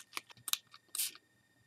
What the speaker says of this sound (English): This one's spraying in all directions.